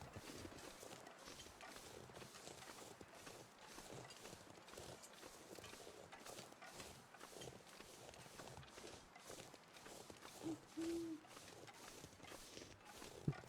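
Deer footsteps in the video game The Long Dark come as a run of soft, evenly paced thuds under steady background noise, with a brief tonal blip near the end.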